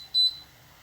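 A kitchen timer being set to six minutes gives a single short, thin electronic beep, fairly faint in a quiet kitchen.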